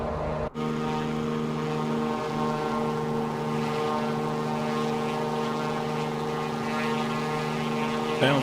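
Steady propeller-engine drone of a T-34B trainer aircraft in flight in the MSFS 2024 simulator, a continuous loud tonal hum with layered harmonics holding level throughout, with one brief dropout near the start.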